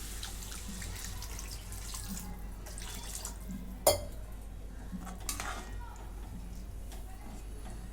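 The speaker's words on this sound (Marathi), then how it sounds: "पाणी ओतून घेते" Water poured into a cooking pot of spiced gravy with field beans: a soft, continuous watery rush with one clank of metal partway through, fairly faint against kitchen background.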